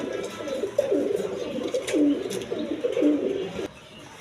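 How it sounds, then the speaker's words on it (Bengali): A pair of Giasulli pigeons cooing in low, wavering phrases that repeat several times close by, with faint background noise and no clear speech, before cutting off abruptly near the end. "দর্শকবৃন্দ এখানে এক পেয়ার গিয়াসুল্লি কবুতর আছে"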